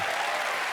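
Brief burst of audience applause at a live comedy show, dense and steady clapping heard close, with no voices.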